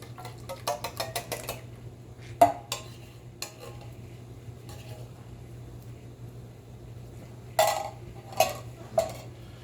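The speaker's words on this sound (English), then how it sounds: "Stir it up a little bit here." Coconut milk being stirred in a pot, heard as light clinks and scrapes of a utensil against the pot in scattered clusters over a low steady hum, with no talk.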